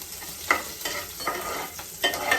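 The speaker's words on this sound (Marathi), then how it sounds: "पण मिरची आपली छान त्याच्यामध्ये परतवली आहे" Green chillies sauté in a pan for sabudana khichdi with raw potato, a soft continuous sizzle broken by several scraping stirs of a spoon, close but fairly quiet with no voices.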